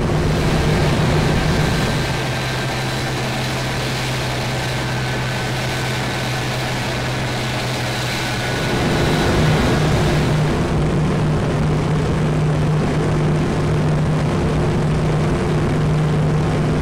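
Boeing 737 jet engines roar steadily through a takeoff at Hannover in Flight Simulator 2004, a loud continuous rumble with a low tonal drone that shifts midway as power changes.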